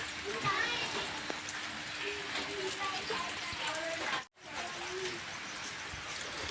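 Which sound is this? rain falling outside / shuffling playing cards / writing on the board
rain falling outside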